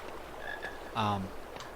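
A chocolate frog croaks in the Harry Potter and the Sorcerer's Stone PC game on the Hogwarts grounds, giving one short, fairly loud croak over quiet game ambience, with a couple of faint chirps before it.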